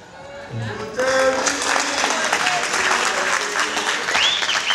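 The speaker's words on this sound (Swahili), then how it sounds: "Makofi ya Mtemi." Enthusiastic audience applause for the poet Mtemi at a spoken-word session at Githurai Social Justice Centre, starting with a few scattered claps and quickly swelling into loud, sustained clapping with some cheering voices mixed in.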